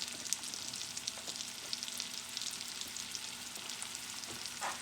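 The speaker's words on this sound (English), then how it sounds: "we're just gonna saute this just a little, just to get it translucent" Chopped onions sauté in a pan, with a soft, steady sizzle and light crackles plus a few scattered stir clicks, fairly quiet and without speech.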